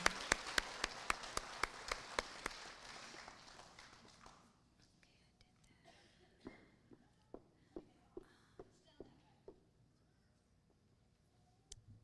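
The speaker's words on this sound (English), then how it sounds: "let's give those 4th grade team a round of applause" Applause at an elementary school awards ceremony, a row of loud, sharp, evenly spaced claps fading into a quieter spell of soft murmuring, then a second, sparser run of distinct claps.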